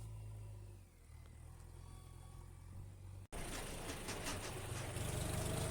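A tractor levelling soil on a farm field runs with a steady low engine drone, heard first at a distance and then louder and rougher after an abrupt cut, rumbling continuously with no talk.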